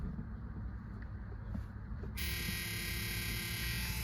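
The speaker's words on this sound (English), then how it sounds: "door buzzer works" A Ford Pinto door buzzer comes on partway through, a steady high electric buzz that holds continuously over a low engine-like rumble.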